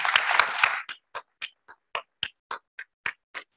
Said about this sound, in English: a major hand of applause to Peter